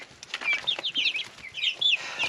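Backyard chickens cluck and chatter in a quick, busy flurry of high, close calls, several birds overlapping with no talking.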